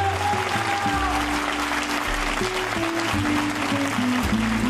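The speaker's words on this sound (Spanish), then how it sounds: "Vamos a darle un aplauso, por favor." Applause from the audience at the Mexicana Universal 2018 pageant gala, a steady broadband clatter of many hands with music playing underneath throughout.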